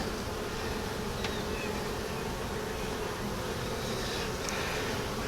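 A honeybee colony hums in an open hive during an inspection, a steady, dense buzz that stays close and even throughout, with no talking.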